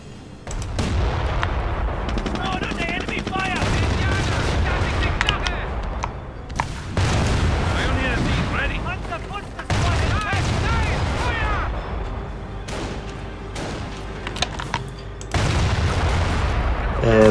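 Gunfire and artillery from a Company of Heroes World War II battle crack and boom in dense repeated bursts, loud and close, with heavy blasts breaking through and voices calling out over the fighting.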